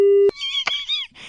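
A phone call cut off, heard as a short steady electronic tone that stops abruptly, followed by brief squeaky, warbling sounds over a line that is otherwise quiet.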